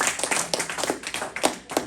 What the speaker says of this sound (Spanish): Denle fuerte aplauso una vez más al Señor.